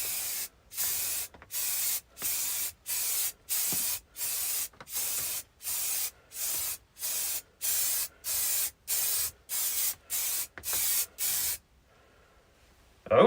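Spray can applies a coat to an epoxy side table in about a dozen even bursts, each roughly half a second long with short pauses between them, then stops near the end.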